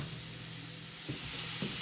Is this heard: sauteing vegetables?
yes